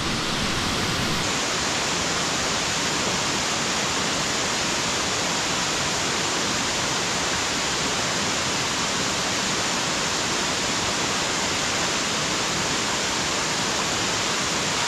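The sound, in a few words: flowing water at wilderness campsite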